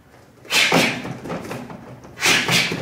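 Straight punches from martial arts training, thrown with a quick hip switch: a pair of sharp slapping strikes close together, then another tight pair after a short pause, loud and close.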